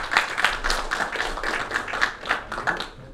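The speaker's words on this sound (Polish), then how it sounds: "Wielkie brawa, zapraszamy." An outdoor crowd at a Polish freedom picnic in Bury near Manchester claps to welcome a guest speaker. The scattered claps are moderate and fairly distant, a loose patter that tapers off after a few seconds.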